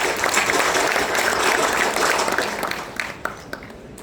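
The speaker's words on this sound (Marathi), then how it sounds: "आपण सगळ्यांनी त्यांचं टाळ्यांचा गौरव करावा" An audience at a school education programme claps steadily in loud, sustained applause honouring a guest, tapering off slightly toward the end.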